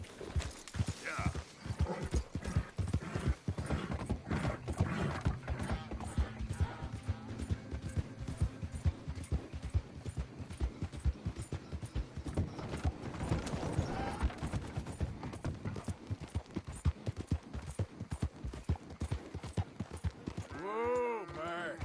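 Horse hooves clip-clopping steadily while riding in Red Dead Redemption II, a continuous close rhythmic gait with creaking tack, a brief whinny and a short spoken voice over it.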